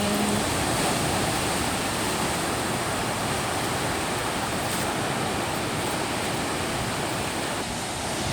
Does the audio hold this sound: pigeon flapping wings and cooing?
no